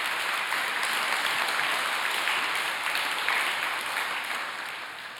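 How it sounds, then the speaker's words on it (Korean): Sustained applause from a large congregation at a blessing anniversary prayer meeting, a dense steady clapping that holds for several seconds and slowly tapers toward the end, with no talk over it. "오늘 주인공들이 많이 오셨을 텐데 그분들에게도 축하의 박수를 올려주시기를 부탁을 드리겠습니다"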